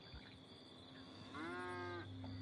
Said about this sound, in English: Check out the cows.